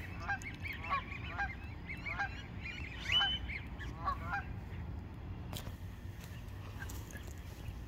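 Geese honk repeatedly in a quick run of calls over steady low outdoor rumble, a few fairly close, then fading to background noise after a sharp knock partway through.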